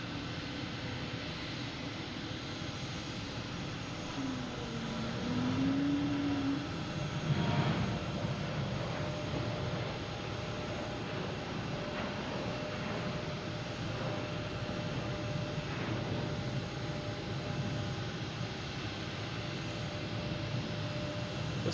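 A jet airliner taxiing at Boston Logan Airport, a steady low engine drone with a faint whine, moderate and distant, with a brief higher tonal sweep early on.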